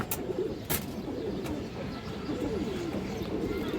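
Pigeons coo in a low, repeated, throaty rumble throughout, close by, with a few sharp clicks or knocks standing out over a busy background.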